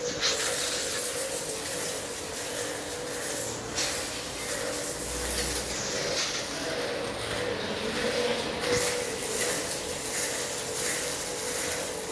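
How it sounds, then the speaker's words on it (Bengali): A pressure washer rinses foam off a car with a steady, fairly quiet hiss of spray that runs throughout with only small changes. "এখন আমরা যে ফোম ওয়াশ করেছিলাম, এখন ওই ফোমগুলো পরিষ্কার করা হচ্ছে।"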